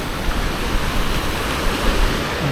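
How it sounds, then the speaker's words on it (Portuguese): Steady rush of surf with wind blowing from the sea onto the beach at Jurerê, Florianópolis, a continuous broadband wash of churning waves close by, no voices. "as águas estão um pouquinho mais, uma agitação aí das ondas, mas é por conta do vento."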